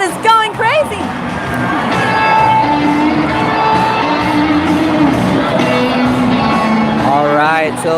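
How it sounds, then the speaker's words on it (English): Volleyball crowd at a men's final cheering wildly, loud sustained roar with whoops and shrill shouts rising over the din, close and continuous throughout. "the crowd is going crazy"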